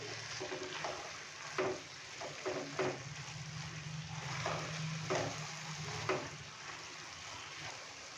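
Mash daal keema being stirred in a cooking pan, a soft steady sizzle beneath several scraping spoon strokes and light knocks against the pan, fairly faint and close.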